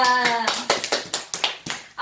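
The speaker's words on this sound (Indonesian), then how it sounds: "Berikan tepuk tangan untuk Nita." Classmates clap for a student in a microteaching class, a short run of distinct, uneven claps close by that follows a brief spoken voice at the start.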